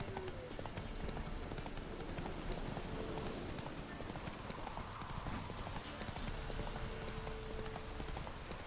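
Roach the horse's hooves clip-clop steadily throughout in The Witcher 3, a continuous rhythmic trot at moderate distance with a light rain-like wash and no talk.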